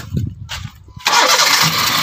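Brief quiet rumble, then a 2015 Honda City engine with a loose ignition coil connection cranks and catches, roaring up loudly and holding at a strong, steady level.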